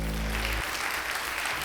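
Crowd applause in the game Darkest Dungeon, a steady broad wash of clapping after a brief low tonal sound at the start, with no talking.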